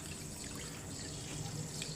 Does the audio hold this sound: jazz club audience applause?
no